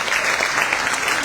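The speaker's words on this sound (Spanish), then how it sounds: "un aplauso a todos," Dense, steady applause from an audience at a book presentation, close and continuous with no voices over it.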